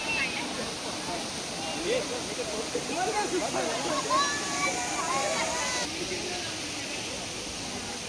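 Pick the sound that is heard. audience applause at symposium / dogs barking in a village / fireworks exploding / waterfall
waterfall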